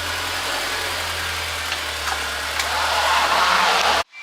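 A Honda S2000 sits idling in a shop after a big brake install, its engine giving a steady mid-pitched hum up close before the sound cuts off abruptly near the end.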